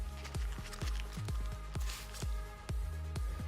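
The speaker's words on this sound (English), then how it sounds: "we're gonna first prime our pad using our Miracle Mist Express Shine" Miracle Mist Express Shine goes onto a buffer pad as a run of quick, close pump-spray bursts, about a dozen short squirts in an uneven rhythm, with no voices.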